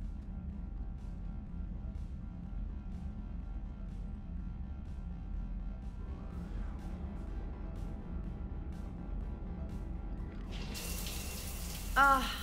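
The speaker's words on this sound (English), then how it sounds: "I figured you'd be more interested in a shower." Shower water runs steadily in a Mass Effect 3 game scene, a soft continuous hiss under a low ambient hum, with a brief brighter splash near the end.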